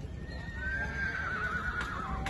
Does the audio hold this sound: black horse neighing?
yes